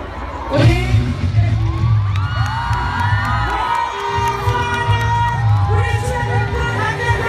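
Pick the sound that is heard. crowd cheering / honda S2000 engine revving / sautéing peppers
crowd cheering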